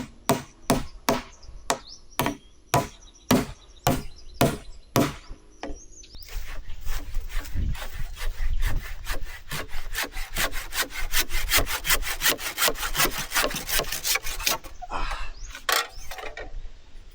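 Handsaw cutting protruding wood pieces on a chicken house under construction, starting with slow, separate strokes and then speeding into a fast, steady run of close, loud rasping strokes with no talk.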